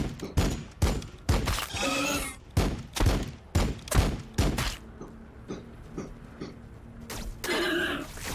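Rapid bursts of gunfire from a Warhammer 40K: Battlesector battle, a dense run of sharp loud shots in quick succession, then sparser thuds and a final burst.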